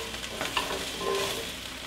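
Carrots and onions cook in a soup pot, a brief, moderate sizzle with a light stirring scrape partway through.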